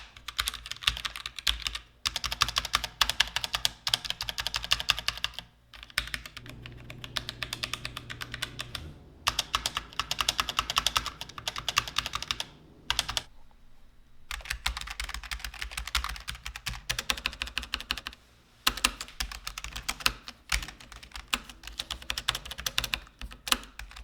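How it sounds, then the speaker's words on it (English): Typing on two tenkeyless mechanical keyboards, a Logitech G915 TKL and a Vulcan TKL, with dense rapid keystroke clatter in bursts separated by short pauses, close and clear with no talking. "Let's take a quick listen to both of the keyboards while typing."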